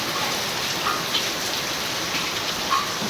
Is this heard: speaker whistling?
no